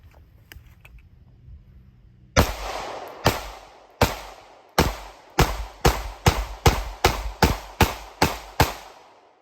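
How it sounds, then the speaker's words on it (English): Springfield Armory Hellcat handgun fired outdoors at a dead stump. First come a few spaced, loud, sharp shots, then a quick steady string of about a dozen more, each with a short echoing tail. "We're just gonna let some rounds go out of the Hellcat and continue the journey of the Hellcat."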